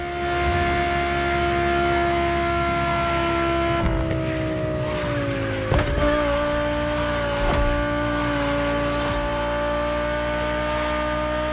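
A 2020 Audi R8 LMS GT2 racing car in The Crew Motorfest roars at a loud, sustained pitch that shifts with gear changes, with brief tyre squeals and skids and no talking.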